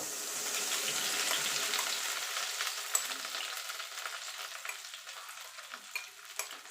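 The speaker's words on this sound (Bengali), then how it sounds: "এবার আমি এই সুজিটা ঘিয়ের মধ্যে দিয়ে দেব" Milk-soaked semolina for halwa fries in ghee, a faint bubbling sizzle with soft wet stirring scrapes and a few light clicks of the spoon near the end.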